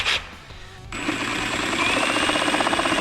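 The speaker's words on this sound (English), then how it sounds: "I'm gonna use a jigsaw because if I use that grinder, it'll actually melt the paint as I cut it." A jigsaw cuts through a painted plastic panel on a Chevrolet Silverado truck, starting up after a brief pause and then running as a loud, steady, rapid buzzing rattle close to the mic.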